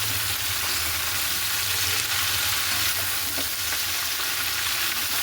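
Pumpkin greens being stirred into hot oil in a frying pan, a steady close sizzle and fry with soft scraping as the leaves are mixed, continuous and fairly loud with no talking.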